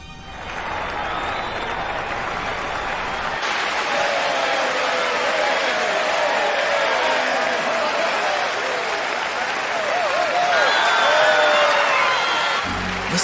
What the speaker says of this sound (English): Listen to them cheer.